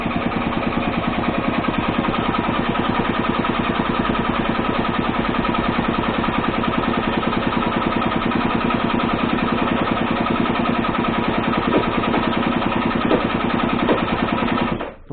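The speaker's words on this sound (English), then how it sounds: "No throttle, just cranking, see if it drinks any fuel in." An Italjet Dragster scooter engine cranking over without throttle, a continuous even rapid chugging churn that holds steady for the whole stretch before cutting off abruptly, close and loud.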